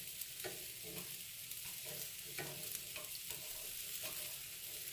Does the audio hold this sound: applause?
no